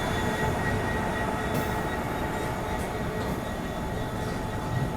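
A passenger express train hauled by a WDG 4D diesel locomotive on the Guwahati–Sairang line in Mizoram gives off a steady, loud rumble with continuous wheel and carriage noise throughout, and no one speaks.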